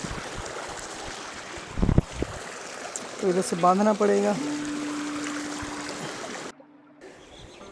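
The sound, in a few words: irrigation water flowing into farm field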